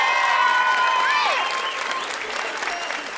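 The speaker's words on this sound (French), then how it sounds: "Est-ce qu'on peut applaudir très fort les fabuleux musiciens qui nous ont accompagnés ce soir?" Applause from a live show audience for the musicians fills the space, dense and steady, with a few whistles or cheers rising over it before it slowly eases.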